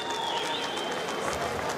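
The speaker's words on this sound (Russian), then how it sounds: "Ваши аплодисменты бойцам." Arena crowd applauding fighters after an MMA bout, a steady continuous wash of clapping and cheering throughout.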